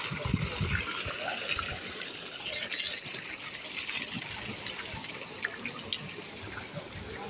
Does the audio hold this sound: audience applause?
no